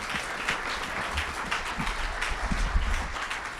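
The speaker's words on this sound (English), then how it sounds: "How about another round of applause for Jack and Kelli?" Audience applause at a 2019 State of the City and State of the County address, a continuous wash of clapping from a large crowd, steady and fairly close, with a few low thumps underneath.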